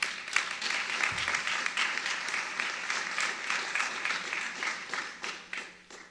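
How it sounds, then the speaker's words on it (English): An audience at a university program on Andean music gives fairly faint, sustained applause, a soft patter of many hands clapping that slowly tapers off. "More applause than I did, Bianca."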